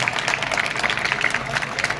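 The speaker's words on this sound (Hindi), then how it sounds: "एक बार विपिन जी के लिए जोरदार ताली बजाइए" Audience applause at a school celebration of Dr. B. R. Ambedkar's 134th birth anniversary, honouring the art teacher; dense, steady clapping from many hands fills the full two seconds at moderate volume.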